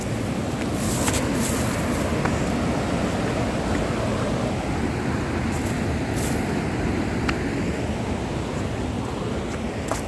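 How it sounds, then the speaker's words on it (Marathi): The perennial Saitwade waterfall in Konkan roars as a constant, loud broadband rush of falling water, unbroken for the whole stretch, with a few faint clicks and no talk. "आणि या ठिकाणी इकडे धबधबा आहे"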